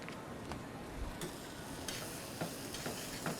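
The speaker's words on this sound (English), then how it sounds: "we just want to saute this just a little bit so it starts to get nice and green like that" Garlic and beans sautéing with maple sugar in a pan give a steady soft sizzle, with a few light clicks and stirring scrapes scattered through it.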